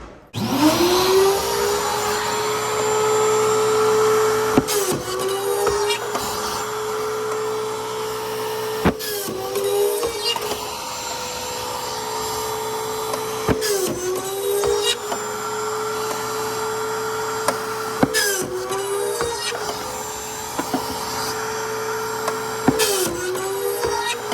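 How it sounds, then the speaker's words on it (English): A Castle pocket hole machine drills pocket holes in wooden face frame rails, its motor whining steadily with a dust-extraction roar, punctuated by about six sharp drilling bursts and clunks at regular intervals, loud and close. "And then I use a Castle pocket machine."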